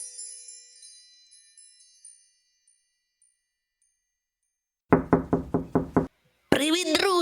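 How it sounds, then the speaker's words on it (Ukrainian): Knocking on a door in a children's cartoon: a fading chime, then a near, loud series of about six quick raps, followed by a voice speaking. "Ой, хтось стукає."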